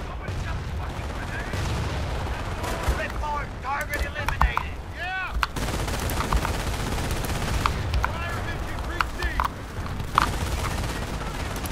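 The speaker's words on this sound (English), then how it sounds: "The turret is shooting too slow!" Turret gunfire in the WWII strategy game Company of Heroes, rapid bursts of shots and explosions crackling throughout a chaotic battle, with whistling shells and speech mixed into the din.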